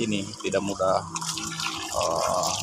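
Water is poured onto a thirsty, flowering avocado tree, splashing and dripping irregularly onto the soil while someone talks over it.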